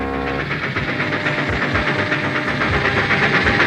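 Cartoon steam train pulling into a station, a loud continuous hiss and chugging rumble close by with a whistle-like tonal layer throughout, no voices.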